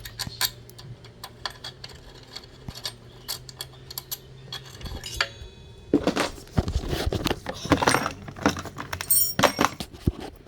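Someone unscrews the old brake caliper bracket on a Dragon Raptor, with small metallic ticks and clicks of a tool turning the bolt, then a busier stretch of rattling and clinking parts, close by.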